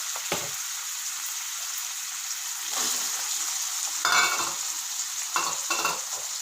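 Meal maker soya chunks fry in oil with fenugreek leaves, a steady bright sizzle throughout with several scraping stirs of a spoon against the pan.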